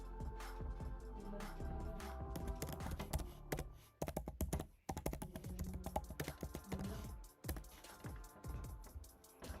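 Typing on a computer keyboard while installing Django, with rapid, close, crisp key clicks in uneven bursts and short pauses, alone without talk.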